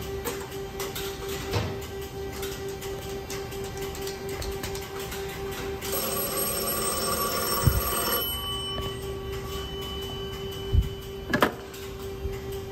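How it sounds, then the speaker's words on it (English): A telephone rings through a 3ESS telephone switch among the hum and mechanical clatter of switching equipment, with a steady tone, a brighter ringing stretch in the middle and scattered clicks and relay thumps. "Yeah, it made a phone call."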